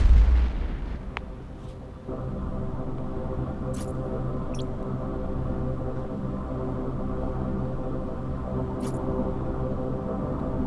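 A spaceship blows up in the EVE Echoes space combat game: a heavy boom opens the clip and then settles into a low, steady rumbling drone, with a few faint electronic blips later.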